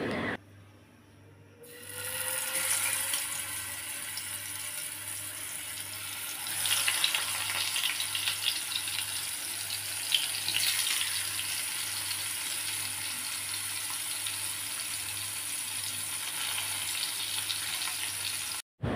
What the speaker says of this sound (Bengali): আর কই মাছটা হচ্ছে আমি একদম মুচমুচে করে ভাজি করে নিব